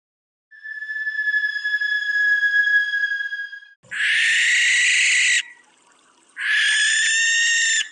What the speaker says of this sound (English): a lot of barn owls in Ireland, not so much anymore, but they have the same screech as those that described a banshee